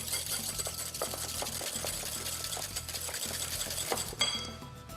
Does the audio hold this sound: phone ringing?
no